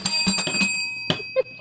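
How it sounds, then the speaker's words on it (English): A bell rings several times in quick bright strikes, with one more strike after a short pause and long ringing overtones, loud and close with no voices. "Ring the bell."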